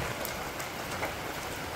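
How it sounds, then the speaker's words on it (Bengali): Steady rain falls over a village in Bangladesh, a dense, even hiss of drops on surfaces that holds constant throughout without any voices. "বৃষ্টি হয়েছে"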